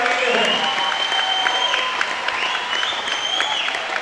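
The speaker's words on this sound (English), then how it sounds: "Big round of applause to our fighters for a fantastic second round." An audience at a fight event claps and cheers for the fighters, with sustained applause and crowd noise throughout and a voice booming over it through a loud hall.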